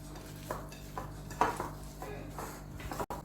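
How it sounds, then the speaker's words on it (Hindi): Potato snack mixed by hand with garam masala: soft, close rustles and light utensil clinks come in short bursts, with one sharper knock partway through, in a quiet room. "अब इसको मैं अच्छी तरह मिक्स करती हूँ हाथ की मदद से"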